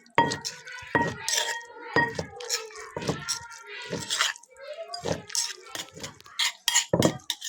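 Food is ladled into a bowl while dishes and utensils clink and knock close by, in a steady run of sharp taps. A voice speaks softly at times underneath.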